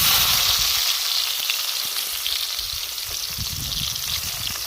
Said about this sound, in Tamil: இந்த வெங்காயம் வந்து நல்லா பொன்னிறம் வர வர நல்லா வதக்கணும்